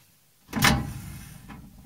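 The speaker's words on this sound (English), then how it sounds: "We've opened the door now" A microwave oven door swings open with one loud, close clunk and latch release, followed by a fainter, softer knock a moment later.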